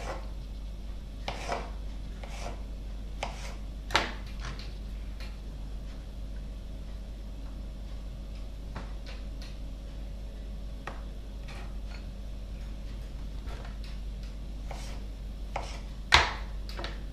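A knife slices a pear on a board for an Italian-style croque-monsieur. Sparse, quiet, crisp cuts and taps are spread out over a steady low hum, with one sharper knock near the end.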